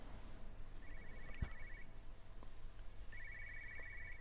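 A satellite phone rings in the video game Everybody's Gone to the Rapture, two short trilling bursts separated by a pause, faint and somewhat distant against a low ambient hum.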